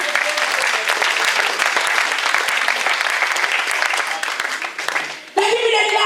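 A church congregation bursts into loud, sustained applause and clapping, continuous for about five seconds before fading briefly, then resuming with voices mixed in.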